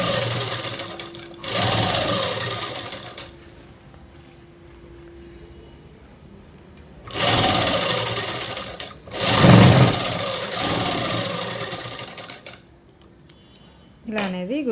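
A sewing machine stitches a seven-year-old child's blouse in bursts of fast, whirring runs separated by quieter pauses, close by and loud, with a few small handling clicks and brief talk.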